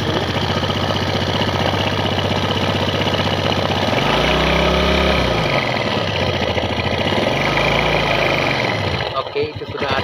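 A Honda Vega ZR motorcycle engine with a rough-running fault and an oil pump problem runs steadily and loudly up close, its idle swelling twice, with people talking over the drone.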